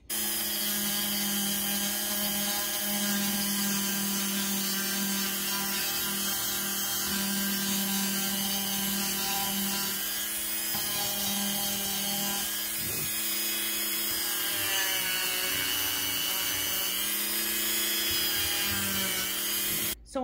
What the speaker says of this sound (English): So once we finish sanding,